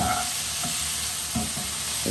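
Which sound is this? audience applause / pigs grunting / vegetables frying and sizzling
vegetables frying and sizzling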